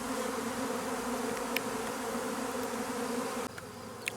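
A swarm of honey bees from a hive that has just split, buzzing as a dense, steady drone close by, loud and continuous with a slight drop near the end.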